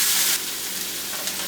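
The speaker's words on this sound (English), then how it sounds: "Now I'm gonna toss my onions right into the frying pan." Onions sizzling in a hot frying pan while making beef ramen, a steady close hiss that is loudest at the start and then settles into an even, continuous crackle.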